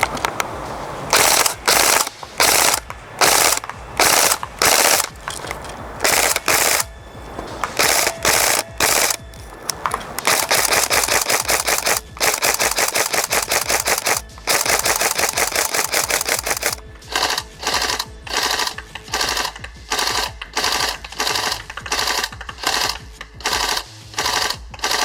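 Rapid bursts from a Tokyo Marui SCAR-L recoil shock electric airsoft rifle, loud close mechanical clatter in repeated strings of shots separated by short pauses, with one long sustained burst mid-way.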